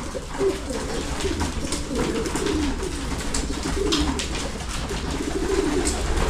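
Pigeon breeders in a loft coo repeatedly in rolling, overlapping calls over a constant fluttering and rustling background, close and fairly loud.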